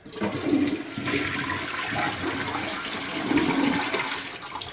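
Flush of a newly installed toilet, a loud rushing gush of water that swirls and drains steadily for several seconds, close by with no talking.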